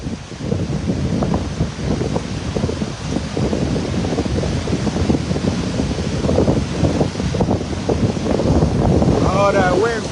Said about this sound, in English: Oh, that wind picking up.